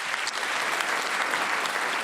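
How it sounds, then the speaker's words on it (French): An audience applauds local sports teams, including a champion mixed badminton squad, with a dense, even burst of many hands clapping at moderate volume, brief and unbroken. "On peut les applaudir."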